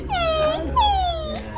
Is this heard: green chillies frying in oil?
no